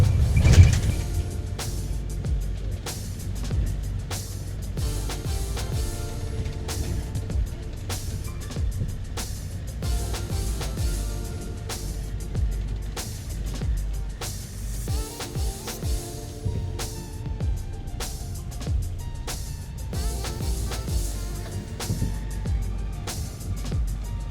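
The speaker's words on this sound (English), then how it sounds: "we are on the bus now to TNZ Mountain" Inside a bus climbing toward Tianmen Mountain, a constant low engine rumble and road roar fill the cabin, with rattles and brief clunks on top and no clear speech.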